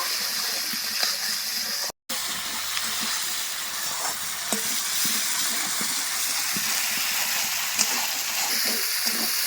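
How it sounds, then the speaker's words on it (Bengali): Spices frying in oil in a pan for pabda fish curry, a steady broadband sizzle running throughout with faint scattered clicks of stirring and one brief dropout near the start; no talking. "এরপর সব কিছু ভালো করে আবার কষিয়ে নেব"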